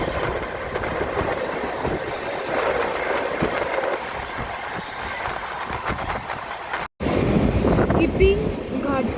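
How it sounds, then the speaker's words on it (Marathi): An AC local train rushes past on a parallel track, a loud steady roar with rattling wheels, heard from a moving express train; a brief dropout is followed by squealing wheel noise. "आणि समोरील AC लोकल ट्रेन."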